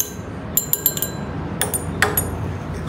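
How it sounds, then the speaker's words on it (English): Fake snow mixture being stirred in cups in a children's science experiment, heard as a string of light clinks and taps against the cup at irregular intervals over a steady background hiss. "let's give these a stir"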